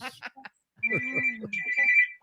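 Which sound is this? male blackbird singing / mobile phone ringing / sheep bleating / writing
mobile phone ringing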